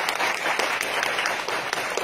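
Applause from the audience at a Deyunshe crosstalk evening show in Tianjin: dense, sustained clapping from a large crowd filling the whole moment, loud and continuous without a break.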